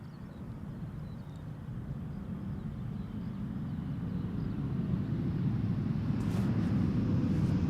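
A landed airliner at Amsterdam Schiphol Airport rolling on the runway, a steady low roar of engines and rumble that slowly grows louder, heard at a distance with wind noise and no talking.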